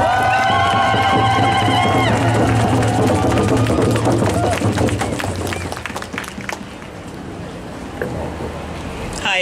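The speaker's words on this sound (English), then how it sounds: "Please give Michelle a round of applause." An audience at a Standing Rock solidarity gathering in Seattle breaks into loud, sustained applause with cheers and whoops, the clapping gradually thinning out toward the end.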